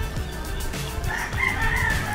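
A rooster crows once, close and loud, in the second half, over low background rumble and a few scattered clucking sounds.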